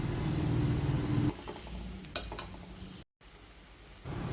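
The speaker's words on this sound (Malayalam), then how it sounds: "ഇട്ട് കൊടുത്തിട്ട് എല്ലാം കൂടി നന്നായിട്ട് മിക്സ് ചെയ്യുക." Ginger garlic paste being stirred into prawn masala in a pan for Kerala-style prawn roast, a soft scraping and sizzling sound with one sharp clink partway through and a brief silent gap.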